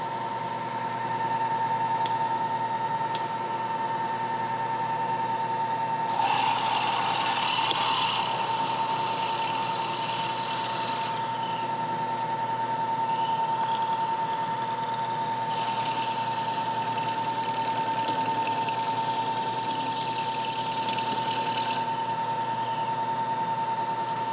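A drilling machine's motor hums steadily with a high whine while its power feed drills metal in two long stretches with a gritty, scraping grind.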